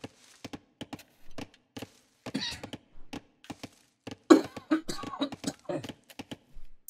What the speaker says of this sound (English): I've got a bit of a cold today. I'm coughing.